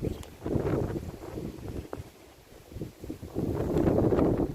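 Gale force wind on a tidal island buffets the microphone in heavy, irregular low rumbling gusts, easing briefly in the middle before surging again, close and rough.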